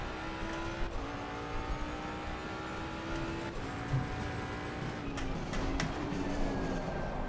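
Race car in Assetto Corsa Competizione gameplay braking and cornering, a steady engine drone with shifting pitch and sharp gearshift or kerb clicks, heard close with no talking.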